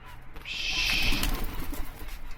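Blue swallow breed pigeons give a clear drawn-out call over faint outdoor background, one sustained note near the start, then quieter low cooing and rustle.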